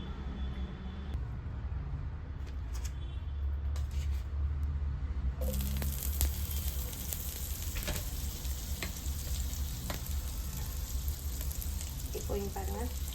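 Butter sizzling in a pan on medium heat for a chicken bread omelette, a soft crackle that jumps to a brighter, louder fizz partway through, with light scraping and clinks over it.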